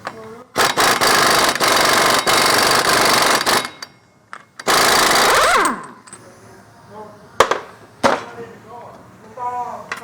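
An impact wrench rattles loudly in two long bursts, removing a 36 mm axle nut, with a brief pause between them, followed by metallic clanks and someone talking.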